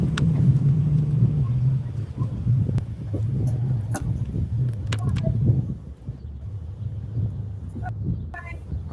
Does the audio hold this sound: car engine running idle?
yes